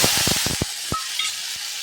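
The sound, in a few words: shallots and chillies sautéing in oil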